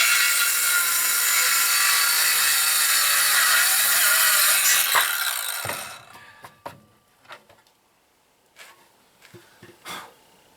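A power saw with a laser guide cuts through a wood board for shelving, a loud sustained whine for about five seconds that winds down, followed by faint clunks and handling knocks as the piece is set aside.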